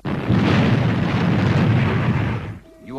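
Retro rockets firing on a spacecraft in the puppet series Fireball XL5, a loud, sustained roaring blast for about two and a half seconds that cuts off abruptly, followed by a brief voice.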